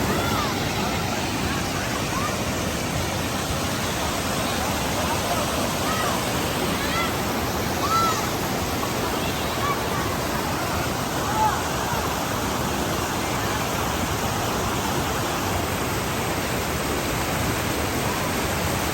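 Sastha Kovil waterfall rushes in a constant, dense roar, loud and close, with faint voices underneath.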